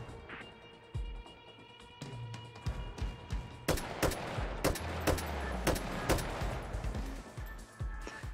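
An AK rifle fires in the VR shooting game Hot Dogs, Horseshoes & Hand Grenades: sharp single shots at irregular intervals, with a quicker cluster of cracks in the middle, fairly close and clear.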